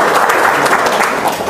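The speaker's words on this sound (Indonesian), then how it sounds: "Wow, tepuk tangan dong." Audience applause after a talk about company projects in Sentul, a dense steady wash of many hands clapping together at close range, running loud and unbroken throughout.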